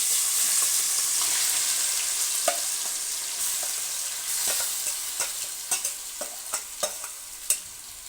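Chicken pieces fry with green chillies in a pan for Chittoor chicken fry, a bright continuous sizzle with a run of quick stirring clicks and scrapes growing busier toward the end.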